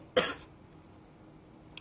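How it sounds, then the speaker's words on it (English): A single short, sharp cough near the start, followed by quiet room tone and a faint click at the end. "my cough was a lot worse the last couple other days"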